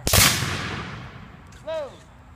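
A single sharp volley of musket fire from Civil War reenactors at Stately Oaks in Jonesboro, a loud crack rolling into a long fading echo, with a faint whistle-like tone near the end.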